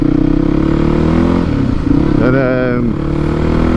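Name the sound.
Yamaha WR450F motorcycle exhaust with new baffle revving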